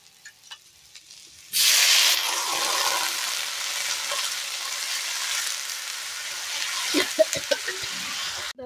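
Water poured into a hot pan of fried salt, cumin and turmeric spices bursts into loud, steady sizzling that carries on without pause, with a few faint clinks near the end.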